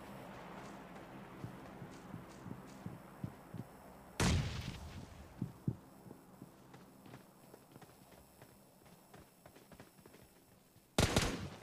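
Two grenade blasts in PUBG Mobile, a sharp loud boom at about four seconds and another near the end, between quieter game footsteps and small thuds.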